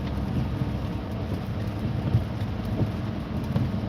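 Steady rain pours over farmland during a severe thunderstorm warning, with low rumbling thunder blended into a dense, continuous wash of noise.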